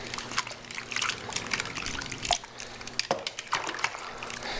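Soapy water splashes and trickles while a stuck sprinkler head is scrubbed clean during a lawn sprinkler repair, a steady close wash with irregular spattering bursts.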